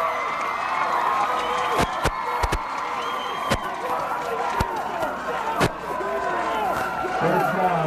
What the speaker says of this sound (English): the Hazlet crowd getting more excited and more excited